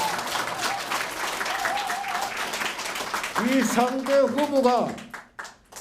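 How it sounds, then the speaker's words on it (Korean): Clapping from the audience at a mayoral candidate's campaign office opening, with voices and cheering over it, the applause swelling briefly and then cutting off. "여기 박수 안 줍니까?"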